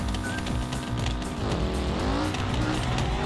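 A Bruckel 9 car in BeamNG accelerates hard down a track, its engine revving loudly with rising and falling pitch and some tire squeal, continuous and close.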